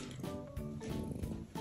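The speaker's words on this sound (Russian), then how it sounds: "Она без остановки мурчит." A ring-tailed lemur purrs softly and continuously, a rumbling purr pulsing in close, steady rhythm, like a cat's purr but from a small animal held near.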